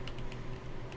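Quick, light taps on a computer keyboard in a quiet room, evenly spaced and soft.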